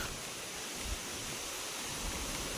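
Water rushes steadily below a bridge near Songaon on a riverside crab-catching outing, a continuous broadband roar with no clear breaks and no voices.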